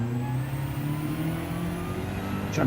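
A race car engine in Gran Turismo 7 revs hard under acceleration, holding a loud, steady, high-pitched drone that climbs slightly in pitch, with a brief sharper burst near the end.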